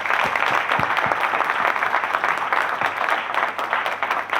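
An audience at a motivational speech in a restaurant hall breaks into loud, sustained applause, many hands clapping in a thick continuous roar with a few sharper individual claps standing out.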